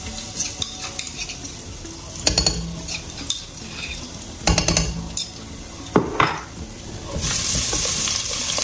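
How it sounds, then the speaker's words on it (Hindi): Ginger and garlic frying in a spoonful of hot oil in a pan, a steady sizzle broken by sharp clinks and scrapes of a spoon stirring against the metal, close by and with no voices. "ऑयल हमारा गर्म हो गया है इसमें मैं डालूंगी अदरक लहसुन एक चम्मच"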